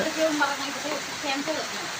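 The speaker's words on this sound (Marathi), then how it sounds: "हा आता बघू शकता तुम्ही आता पाऊस चालू आहे अजून" Steady rain falls outdoors over hillside farmland, a dense, even hiss that fills the whole stretch, with faint voice-like tones drifting underneath.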